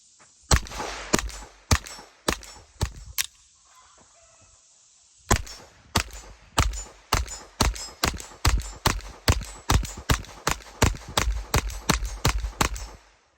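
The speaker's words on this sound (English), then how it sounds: "we fired another 20 rounds through it" A Sig P322 pistol firing Federal 40 grain lead nose rounds in rapid strings, a burst of about seven shots, a pause, then a longer run of roughly twenty sharp, loud reports with ringing echoes at a range.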